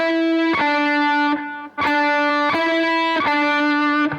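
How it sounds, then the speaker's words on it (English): Electric guitar plays four separate sustained notes, each struck cleanly with a slightly gritty tone and ringing out before the next, loud and close. "If you play individual notes, it will sound like this."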